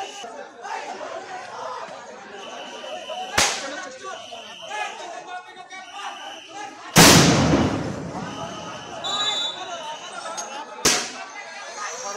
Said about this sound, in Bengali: সাউন্ড গ্রেনেড নিক্ষেপ করে এবং ধাওয়া দিয়েছে।